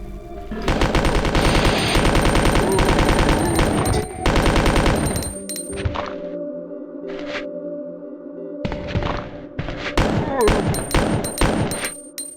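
Sustained bursts of gunfire from Resident Evil 2, loud and dense for about five seconds, then a lull with a low droning tone before more rapid shots return near the end.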